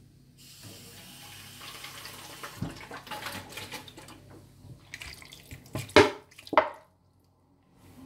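Water running from a tap into a cooking pot holding tomatoes, a steady rushing flow that swells, ends with a couple of splashy clunks and then stops into silence.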